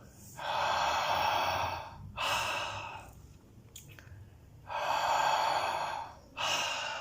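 Slow, deep breaths during a breath work exercise, long airy inhales and exhales in two pairs separated by a quiet pause, close and soft with no talking.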